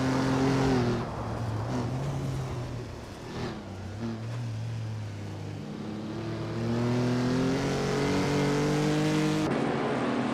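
Vintage race cars in a racing video game, with several engines droning and revving in steady tones as they circle the track. The shifting pitches overlap continuously at a moderate, constant loudness.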